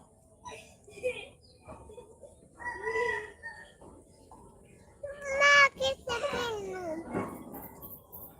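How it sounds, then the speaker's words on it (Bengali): Free-range native chickens and their grown chicks in a rural Bangladeshi village yard cluck and squawk, with one louder crowing call midway, moderately close, amid scattered speech from people nearby on an overcast day. "মুরগির বাচ্চাগুলো বড় বড় হয়ে গেছে"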